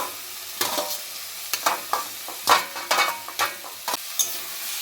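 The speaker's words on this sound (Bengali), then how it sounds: "সমস্ত এবার মশলার সাথে ভালোভাবে নেড়ে চেড়ে নেব।" A spoon stirs boiled eggs, potatoes and onions into spices frying in oil for a Bengali egg curry, giving irregular scraping strokes and clatters over a soft sizzle, close and fairly loud with no talking.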